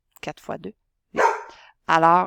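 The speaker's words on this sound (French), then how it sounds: "excuse-moi pour mon chien." Pet dog barks a few times, nearby and fairly loud, while a person speaks between and around the barks.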